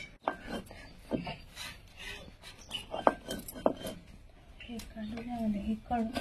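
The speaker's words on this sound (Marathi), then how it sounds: "तर आता याला बारीक करून घेते पाट्यावर" Black pepper being ground by hand on a stone grinding slab, close scraping and rubbing strokes with occasional knocks, recurring in uneven rhythm while someone talks over it.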